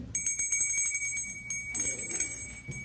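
A small timekeeper's hand bell at an open mic rings in quick repeated strikes, bright and close, with a shimmering ring sustaining between shakes.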